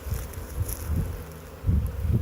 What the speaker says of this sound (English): If she's over here, all the bees are gonna group near her